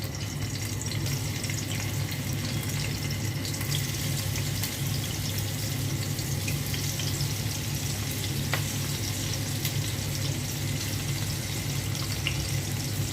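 Fish frying in oil in a cooking pot, a constant dense sizzle that holds at an even loudness with no pauses and no voices.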